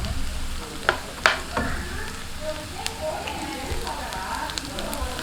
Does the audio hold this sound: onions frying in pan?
yes